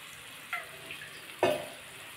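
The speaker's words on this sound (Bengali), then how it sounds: "দেখুন বন্ধুরা, সামান্য জল দিয়ে দিয়েছি।" Water poured into spices frying in a karahi for pea ghugni, giving a brief hiss at about half a second and a louder sizzling burst near one and a half seconds that fades quickly, alone without talk.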